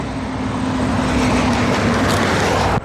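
Continuous vehicle traffic rumbles through an operational industrial area during cathodic protection current injection testing on pipelines, a steady broadband roar with a low hum, cutting off sharply near the end.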